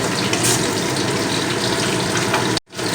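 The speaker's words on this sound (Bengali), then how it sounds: "সর্ষে বাটাটা দিয়ে গ্যাসের ফ্লেমটা মিডিয়ামে রেখে আমি কিছু সময় কষিয়ে নেব খুব ভালো করে" Mustard paste stir-fries over a medium gas flame for a homestyle rohu fish curry, a loud continuous sizzle with a brief break near the end.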